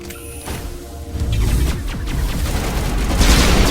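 Rapid gunfire and crashing impacts build in a Mass Effect battle against Geth, sustained, loud and dense, with machine-like mechanical noise beneath the shots.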